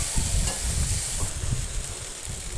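Taro stolons (kochur lothi) frying in a pan, a faint steady sizzle under soft low thumps and stirring scrapes, no voices.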